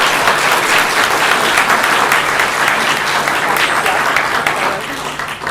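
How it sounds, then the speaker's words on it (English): An audience at a community summit applauds a student panel, sustained close clapping from many hands for about five seconds, tapering slightly at the end. "Let's give them a round of applause."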